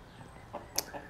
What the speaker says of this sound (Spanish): aquí les vamos a mostrar un poquito de los gallos aquí de la gallera